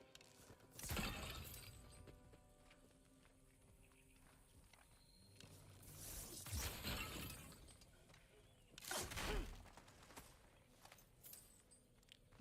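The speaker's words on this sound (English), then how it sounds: "Just don't raise any questions about our boy here smashing open every available box." Wooden boxes smashed open in the video game God of War Ragnarok: three loud, sharp crashing breaks at spaced intervals, each with a splintering burst, over quieter background game ambience.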